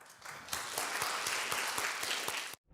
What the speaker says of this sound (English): With a round of applause, shall we welcome founder number one?